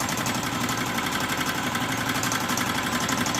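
An embroidery machine stitching the webbing of a dream catcher design at 700 stitches a minute makes a steady, fast mechanical chatter with a constant rhythmic hum throughout.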